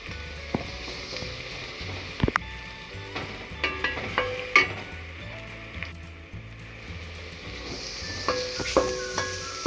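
Onions and crushed garlic fry in a pan for an aloo baingan sabzi, sizzling steadily up close with intermittent scraping and stirring clinks from a spoon.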